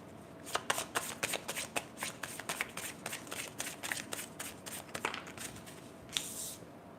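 Tarot deck shuffled by hand during a reading: a close, quick series of crisp card riffles and flicks, ending in a short fluttering burst, with no voice over it.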